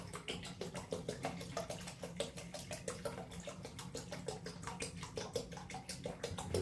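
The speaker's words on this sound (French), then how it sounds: "Donc je rajoute mes 2 litres d'eau." Two litres of water poured for homemade ginger beer, a continuous soft splashing stream with fast flickering pulses, fairly quiet and close, no voices.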